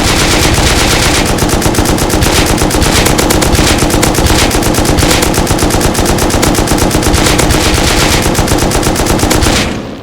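M249 light machine gun in the game Rust fired in one long, unbroken fully automatic burst of about nine seconds, loud and close, a rapid even rattle of shots with no voices.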